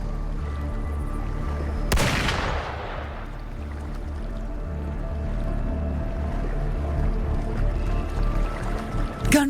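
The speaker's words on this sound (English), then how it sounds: "Gunfire! We've got intruders." A sudden burst of gunfire in the video game Wuthering Waves cracks out loud and close near the start, then fades beneath a steady droning game ambience.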